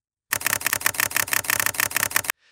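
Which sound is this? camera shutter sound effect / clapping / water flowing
camera shutter sound effect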